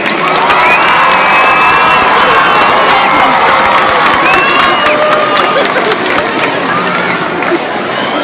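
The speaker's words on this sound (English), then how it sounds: "I'd also like to thank and give a big round of applause to our band." Loud, continuous cheering and shouting from a crowd at a community project kickoff event, applauding the band, with excited voices and high whoops layered over a constant roar.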